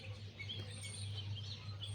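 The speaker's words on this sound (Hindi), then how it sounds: "अलग अलग पक्षी चहक रहे हैं।" Various birds chirping outdoors: several short, high tweets scattered over a steady low hum, faint and somewhat distant, with no talking.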